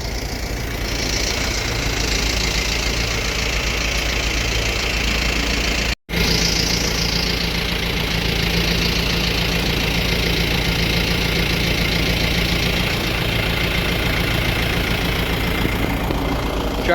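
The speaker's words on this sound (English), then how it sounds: "Tractor with the chains made it work pretty good." A tractor fitted with chains pushes a load of hay forward into a truck. Its engine drones steadily and loudly at close range throughout, with one brief dropout partway through. No one speaks.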